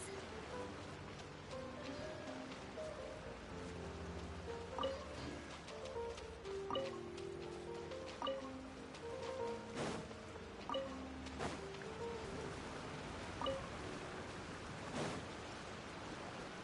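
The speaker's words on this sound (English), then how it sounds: "Marching in the rain conceals the sound of our arrival" Steady rain falls in Genshin Impact, a soft continuous hiss with scattered drips and light patters, alone and evenly loud throughout with occasional faint music-like tones beneath.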